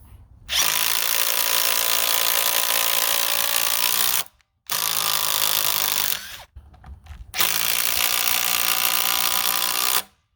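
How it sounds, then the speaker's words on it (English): Ridgid subcompact impact driver running in three long bursts, a loud high whirring buzz with hammering rattle, broken by brief gaps, close and alone. "we have the Ridgid subcompact impact driver"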